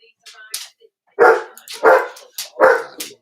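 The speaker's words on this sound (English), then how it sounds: "Dogs." A dog barks three times in quick succession, each bark loud and close, with a few softer yips and vocal sounds in between.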